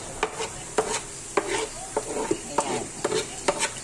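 Chopped cabbage being stir-fried into fried rice with egg in a pan: a continuous sizzle broken by regular scraping and stirring strokes about every half second, close and fairly loud, with no talking.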